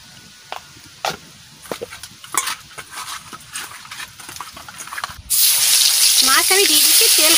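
Fish seasoned with salt and turmeric hits hot oil for a fish biryani: after scattered kitchen clatter and light knocks, a sudden loud, steady sizzle erupts and holds, with a brief voice near the end.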